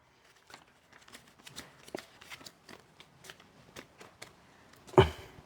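Banknotes are counted by hand, a steady run of soft papery flicks and rustles close by that ends in a louder slap.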